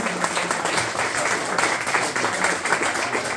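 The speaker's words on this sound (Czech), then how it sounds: "Velký aplaus, prosím, pro všechny lektory, který tady máme" An audience at a dance holiday event in Croatia gives the dance teachers a big round of applause, a steady dense wash of many hands clapping throughout, close and full.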